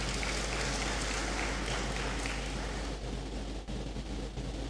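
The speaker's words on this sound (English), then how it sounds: "Kindly give her another round of applause." Broad, washing applause from an audience in a great hall during a university matriculation ceremony, loud and continuous, fading slightly toward the end.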